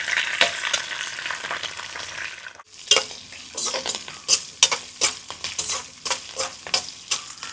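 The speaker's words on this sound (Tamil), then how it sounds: "நான் வெங்காயம் நல்லா வதங்கணுமா?" Onions and curry leaves frying in a pan, a bright continuous sizzle broken by rhythmic scraping strokes of a stirring spoon, close and loud with no voices.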